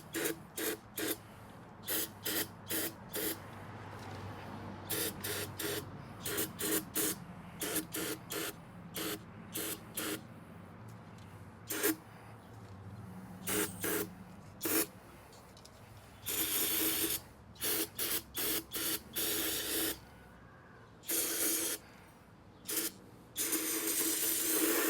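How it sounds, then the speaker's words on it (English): Repeated short bursts of spray hiss from an aerosol can spray-painting a Nissan S13 body kit, some in quick clusters and others longer, against a steady low background hum. "I'm just gonna go ahead and"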